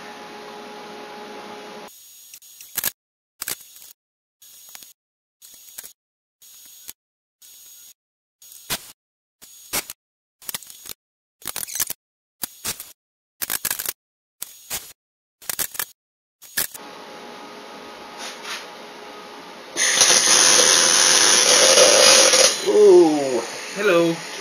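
Stick welding on the exhaust of a Coleman Powermate generator: a run of short, sharp crackling arc bursts separated by silent gaps, then a louder, steadier sizzling hiss toward the end.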